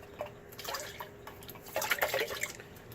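Water swirls inside an empty metal tomato sauce can while spaghetti sauce is being made, giving soft, close sloshing and dripping with a busier burst of splashing toward the end.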